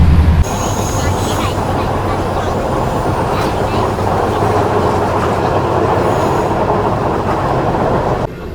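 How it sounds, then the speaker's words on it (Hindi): An Ayodhya Express train rolls steadily through Gajraula Junction without stopping, continuous rumbling and rattling wheels, loud and close, with faint squeals. "यहाँ हमारी ट्रेन जो है वो स्किप कर रही है गुजरोला जंक्शन को"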